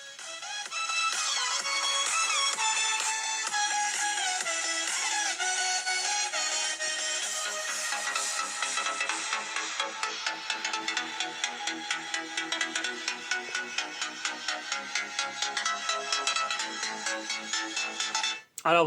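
Music playing from the stereo speakers of a Realme 7 Pro phone, bright and tinny with a thin low end, steady and moderately loud for most of the stretch, turning into a rapid rhythmic pulsing toward the end before cutting off.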